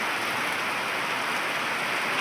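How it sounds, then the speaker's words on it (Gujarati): Heavy night rain in a Gujarat village, a dense, even hiss of downpour on surfaces, steady and loud with no voices. "રાત્રે કંથરાવી ગામમાં રાત્રે ભારે વરસાદ પડ્યો"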